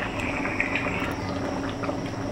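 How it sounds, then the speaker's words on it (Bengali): Ghugni gravy made with goat fat boiling steadily in a pot, a continuous close bubbling and hissing simmer with no talk over it. "এদিকে ঘুগনির গ্রেভি ফুটে উঠেছে"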